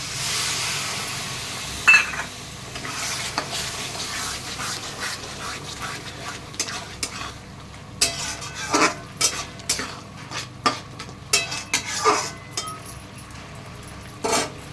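Chicken with spice paste being stirred in a pan: repeated spoon scrapes and metallic clinks against the pan, growing more frequent and rhythmic in the second half over a faint, steady background sizzle.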